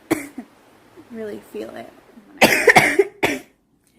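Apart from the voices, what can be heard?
girl coughing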